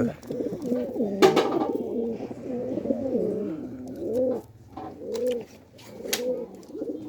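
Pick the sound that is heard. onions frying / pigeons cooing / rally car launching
pigeons cooing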